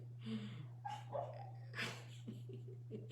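A sleeping dog dreaming indoors lets out soft muffled woofs, whimpers and breathy yips in irregular bursts, close by and fairly quiet over a steady low hum.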